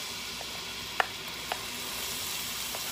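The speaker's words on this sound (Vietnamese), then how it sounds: "bây giờ dầu mình cũng đã nóng rồi các bạn mình sẽ cho gốc hành mình cho củ hành trắng vào trước nha" White onion pieces sizzle in hot oil in a home kitchen, a steady hiss of frying with a couple of faint clicks from the pan or utensil.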